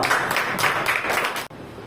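Loud, dense clapping from a crowd of students at a Teachers' Day celebration fills the room in rhythmic surges, then cuts off sharply near the end.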